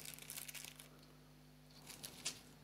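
A plastic bag crinkles while half-filled buckets are packed into a smaller bag, faint soft rustling bursts at the start and end with a quiet lull between.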